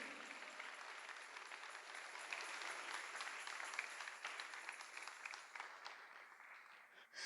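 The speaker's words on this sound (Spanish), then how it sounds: "dale un aplauso fuerte al Dios del cielo" Church congregation applauding steadily, a sustained crowd of hands clapping that swells slightly mid-way and fades toward the end, heard at a distance and fairly quiet.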